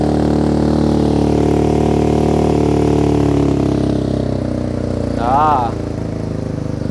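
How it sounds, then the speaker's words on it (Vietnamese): A BMW R nineT 100 Year Edition motorcycle with an Akrapovic exhaust runs loud and steady at idle after starting, its revs dropping slightly partway through, with a brief rising whine near the end. "Bây giờ mình sẽ nổ máy cho bạn nghe thử coi coi là cái động cơ như thế nào."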